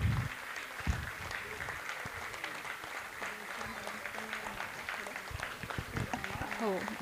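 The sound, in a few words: audience applause at annual function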